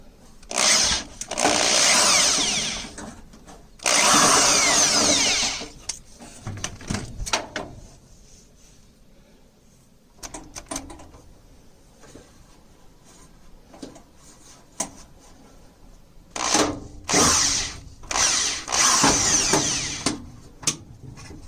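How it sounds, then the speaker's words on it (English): A power drill whirs in several short, loud bursts while removing the screws holding the blower motor of an American Standard Ameristar furnace, with quieter clanks and handling noises between runs. "So now I can easily remove the two screws that are holding the motor to the top"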